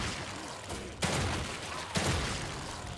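Gunshots crack in The Evil Within 2 as the player lands consecutive headshots, with two sharp, loud blasts about a second apart over a dense, noisy game soundscape.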